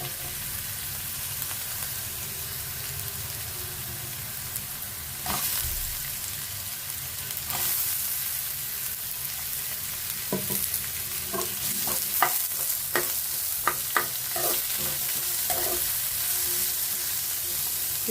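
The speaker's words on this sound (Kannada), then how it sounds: "ಇದು ಚೆನ್ನಾಗಿ ಫ್ರೈ ಆಗಬೇಕು." Chopped onions sizzle and fry in a pan for catering-style dal fry, with a steady hiss and a series of sharp spatula scrapes and clicks growing more frequent toward the end, no talking.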